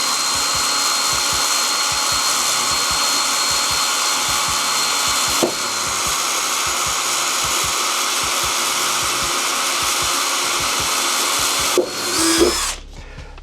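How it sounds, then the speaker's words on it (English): Power drill boring through double-layer van body material, a loud, steady high-pitched whine held for about twelve seconds with brief pauses and a knock near the end. "I'm actually drilling here in the upper part through the material."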